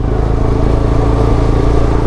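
Motorcycles riding in a line on a group bike tour near Sirajganj, a loud, close, continuous engine drone with a throbbing low rumble and no voices.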